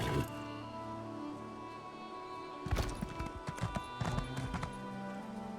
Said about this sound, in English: Come on, Bethesda horse, go.